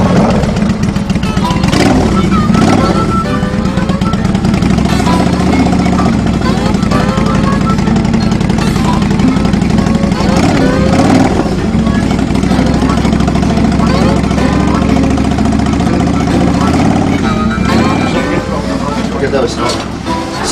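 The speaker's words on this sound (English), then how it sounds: "The exhaust pipes are Vance & Hines straight through pipes" Kawasaki VN800 V-twin motorcycle with Vance & Hines straight-through exhaust pipes, idling and revving loud and close, its rough, throbbing V-twin beat continuous with several sharp rises in pitch.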